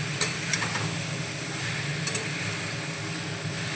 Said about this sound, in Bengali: এখানে নুন আর হলুদ দিয়ে এঁচোড়টাকে ভেজে নেব। তেলের মধ্যে ছেড়ে দিয়েছি,